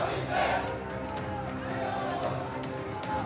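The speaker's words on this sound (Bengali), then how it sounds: "অধিনায়ক অভিষেক স্লোগান শোনা গেল" A crowd at a Trinamool Congress social media (FAM) meeting chants a rhythmic political slogan. Many voices shout together, close and loud, over a continuous crowd din.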